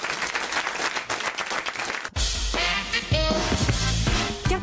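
A studio audience on a French radio entertainment show applauds Titoff with dense, continuous clapping for about two seconds, then the applause cuts to a burst of music or jingle with louder, fuller sound.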